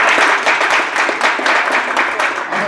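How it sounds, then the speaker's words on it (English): A church congregation claps steadily and loudly for a couple of seconds, with dense overlapping hand claps throughout. "Somebody clap their hands for children's church."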